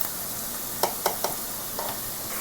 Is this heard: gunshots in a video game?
no